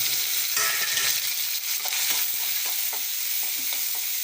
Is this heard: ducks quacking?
no